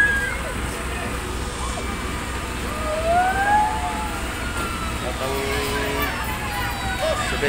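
A fire truck siren wails faintly in the distance during a fire in Pasig, partly buried under steady street and crowd noise and rumbling engines.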